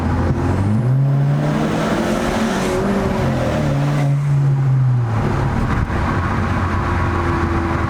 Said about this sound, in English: When it pulls, you get the sucking sound of the intake.